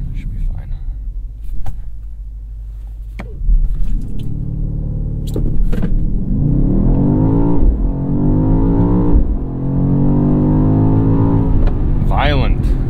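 A 2023 BMW XM hybrid SUV makes a launch-control start, its engine rumbling at idle, then surging into a loud, sustained acceleration with rising revs and gear changes, heard up close from the cabin.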